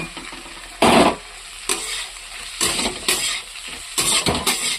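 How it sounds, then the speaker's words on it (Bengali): A spatula stirs a fried egg into frying dal in a pan, with several distinct scraping, clattering bursts over a low sizzle and no speech. "এই ডিম ভাজাটা মিলিয়ে দেবো।"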